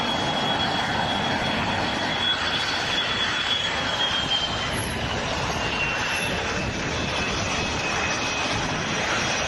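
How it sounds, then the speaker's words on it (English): A Spanish Air Force F-18 Hornet with General Electric F404 afterburning engines roars steadily and loudly for the whole stretch, a broad sustained jet rush with no talk. "there's a Spanish Air Force F-18 Hornet to go out"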